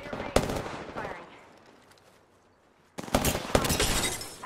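Automatic gunfire from Apex Legends rings out in two loud bursts, the first short and sharp, the second a sustained volley after a near-silent pause, with faint game voice chatter mixed in.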